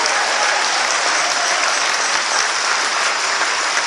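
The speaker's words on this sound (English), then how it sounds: "Give the pastor a round of applause." A church audience at a Harlem housing crisis event applauds the pastor, a dense, steady wash of clapping from many hands filling the whole stretch at close range.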